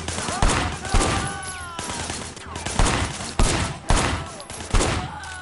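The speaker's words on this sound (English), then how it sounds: "Shooting at the guys over there." Gunfire in the video game Sleeping Dogs, a run of loud, sharp shots fired at irregular intervals, close and punchy, with faint speech and engine noise between them.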